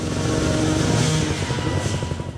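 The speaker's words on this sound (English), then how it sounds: "I hear a motor revving." Motorcycle engine revving at a hard enduro race, a steady loud drone with rising and falling throttle pulses close by, filling the clip without speech.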